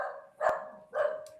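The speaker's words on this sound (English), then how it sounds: "That's my dog barking back there." A pet dog barks somewhere behind a person on a call: two sharp, separate barks, moderately loud and slightly distant, with no talking over them.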